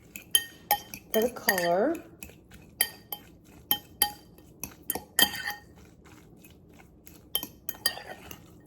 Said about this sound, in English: And then I just mix this all together